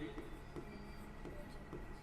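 Pen scratching across paper while a maths question is written out, quiet strokes with a voice talking over them.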